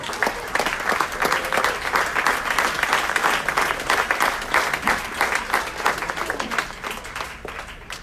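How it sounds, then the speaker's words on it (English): Sustained applause from a city council meeting audience honoring Ward 4 neighborhood groups, dense steady clapping that carries for several seconds before thinning slightly near the end. "Big round of applause for Ward number 4."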